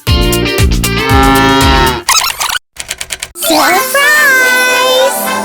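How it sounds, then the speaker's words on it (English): A cow moos in a children's animal-sounds song, a long, loud low call that breaks into short bursts under bright, busy music. "Cow says moo-moo!"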